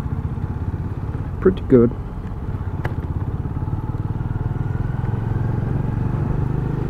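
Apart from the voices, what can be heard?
Benelli Imperiale 400 motorcycle engine during test ride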